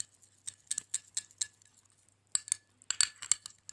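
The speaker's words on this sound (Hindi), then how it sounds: "इसको अच्छे से मिक्स करूंगी।" Oils for a homemade moisturizing cream being stirred together in a small container, giving soft, irregular clinks and taps of a utensil against the vessel in short bursts with quiet pauses between.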